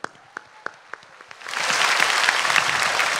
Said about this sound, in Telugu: ఒక్కసారి రెండు చేతులు పైకి లేపి ఎవరి నాన్న కోసం వారు గట్టిగా చప్పట్లు కొడదాం